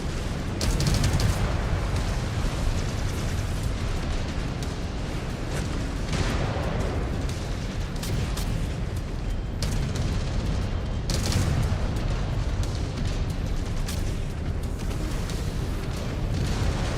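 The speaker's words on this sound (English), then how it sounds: "Just dodged a AC-20 barrage." AC-20 autocannon barrage in the MechWarrior 5 video game, a continuous loud wall of booming blasts and rumbling impacts that keeps up without a break, with heavier surges partway through and no voices.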